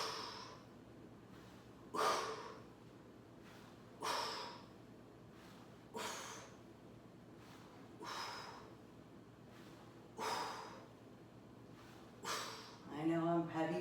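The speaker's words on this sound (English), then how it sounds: "I know I'm heavy breathing" Heavy breathing during an ab core workout: strong, forceful exhalations puffing out about every two seconds, close and clear, with a brief voice at the end.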